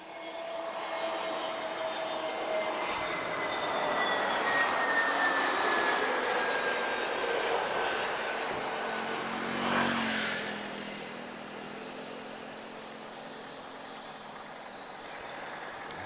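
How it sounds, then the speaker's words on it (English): A TAP Air Portugal Airbus A321neo arrives on the runway at Lisbon Airport, a broad jet roar swelling as it passes nearby and then fading to a steadier distant rumble, no voices. "We've got an A321neo inbound from TAP Air Portugal."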